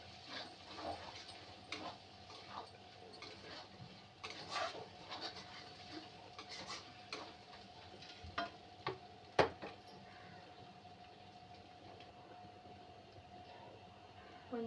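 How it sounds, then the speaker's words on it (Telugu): Goat tripe (boti) fries and gets stirred in a pan, a faint steady sizzle punctuated by irregular scraping clicks of a spoon against the pan. "మధ్యలో ఇలా అడుగంటకుండా ఇలా ఫ్రై చేసుకుంటూ ఉండాలి."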